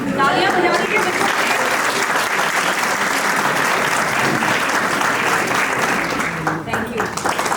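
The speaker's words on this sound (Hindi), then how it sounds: "तालियां बजाने के बच्चों" Audience and children clapping at a play school annual day, with dense, steady applause filling the whole stretch at close range and fading slightly near the very end.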